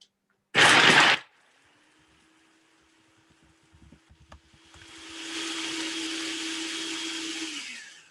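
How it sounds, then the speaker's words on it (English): A Hamilton Beach food processor chops raw vegan stuffing ingredients: a short loud burst of whirring, then a quiet pause with faint clatter, then a longer steady motor whine that winds down at the end. "And this is a Hamilton Beach food processor."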